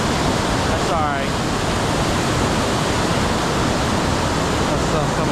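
The Tiger River roars over the rocks at Valley Falls State Park, a loud, dense and unbroken rush of falling water that fills the whole scene and would drown out nearby speech.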